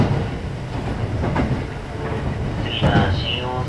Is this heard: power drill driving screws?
no